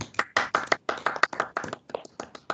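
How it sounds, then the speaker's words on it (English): An audience claps for a doctor honored for complex heart surgery at a forum: a small group of hands beating in distinct, fairly close bursts with short gaps between them, clear and uneven. "A big claps for her and congratulations for the award."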